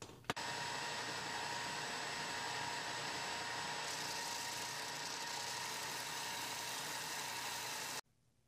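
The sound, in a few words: oscillating spindle sander shaping guitar neck heel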